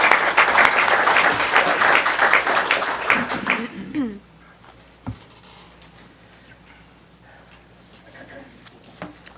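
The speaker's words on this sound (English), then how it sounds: "But now let us welcome them with our applause." A forum audience applauds the candidates at a Hendersonville, Tennessee aldermanic forum, a dense burst of clapping for about four seconds that quickly dies away, leaving a quiet room with a few scattered sounds.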